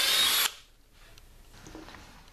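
A power drill bores a hole in a plastic cap in one loud, high whirring burst lasting about half a second, then cuts off abruptly, leaving quiet room tone and faint handling noise.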